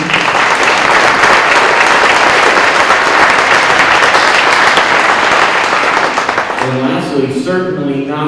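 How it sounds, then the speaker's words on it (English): Audience at a sixth grade band concert claps loudly and continuously for several seconds, then the applause fades as a speaker's voice comes in near the end. "So I'd like to give them a round of applause."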